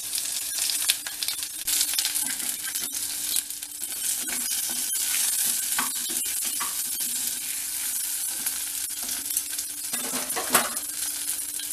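Drumstick pieces and raw mango sauté for sambar with a steady sizzle. Repeated spoon scrapes and clinks against the pan keep up the rhythm throughout, fairly loud and close.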